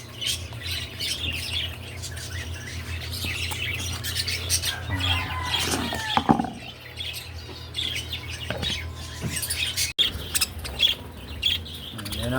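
Pet birds squawk and chirp in a busy, overlapping chorus while eating homemade soft food, calls coming close and fairly loud over a steady low background hum, with a few sharper squawks standing out.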